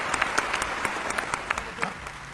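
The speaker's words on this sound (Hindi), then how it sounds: "अगली पंक्ति पर अगर महसूस हो जाए कि मैंने कुछ अच्छी बात कह दी है तो आपकी तालियां मिले।" A brief burst of audience applause at a Hindi-language talk, fairly soft and steady with scattered sharper claps standing out.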